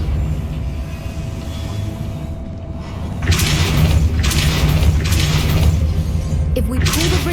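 The Depulso spell in Hogwarts Legacy lets out a series of bright, crackling, shattering whooshes over a low, droning game ambience, starting about halfway through.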